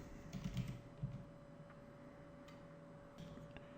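Quiet clicking of keys on a computer keyboard, a few scattered taps and short clusters, faint and close against a steady electrical hum.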